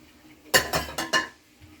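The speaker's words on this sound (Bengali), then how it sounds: "এইভাবে নাড়িয়ে আবার চাপা দিয়ে দিতে হবে ঢাকনাটা।" A spoon clatters against a cooking pot while stirring a chicken feet curry, giving four quick metallic scrapes and clinks up close, followed by quiet.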